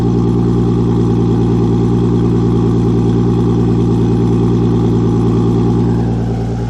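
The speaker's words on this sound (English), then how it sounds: "So here's cold start." A Mk4 Toyota Supra engine with an ARTEC manifold and HKS racing exhaust roars steadily at high idle on a cold start, loud and close, with a deep throbbing exhaust that eases slightly at the end.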